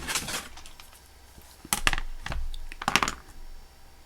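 Paper clip wire being snipped with cutters, giving two or three short, sharp metallic clicks and snaps close by, spaced apart over a few seconds with quiet handling noise between.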